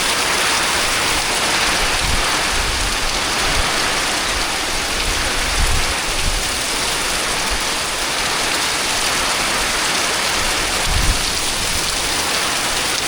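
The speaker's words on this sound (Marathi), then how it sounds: "एकदम जोराचा पाऊस आला आहे." A torrential Konkan monsoon downpour hammers on nearby surfaces, with continuous loud rushing drops and a few heavier low thuds from water spilling down from above.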